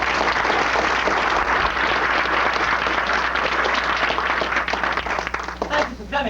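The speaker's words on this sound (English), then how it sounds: "you and the board deserve a warm hand of applause for sponsoring such programs in our school system" Sustained, dense applause from an audience at a school-system event, loud and steady throughout with no talk over it, tapering slightly near the end.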